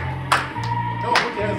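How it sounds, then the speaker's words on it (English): A Black church congregation gives a couple of sharp hand claps over sustained music, with singing voices in the background. "clap your hands"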